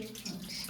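Natural spring water runs steadily from an outdoor spring where hands are washed, a continuous close splashing flow with no break.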